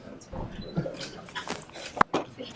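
A dog whimpers in a few short, high whines and yips, fairly close, mixed with room noise and bits of human voice during a sworn-in deputy ceremony.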